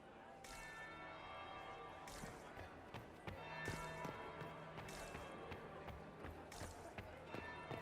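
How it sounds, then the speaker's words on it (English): Bell strikes ringing out at intervals in Dragon Age: Inquisition, a few clear tolls over a steady bed of ambient game noise, with faint movement sounds between them. "That would be the second bell."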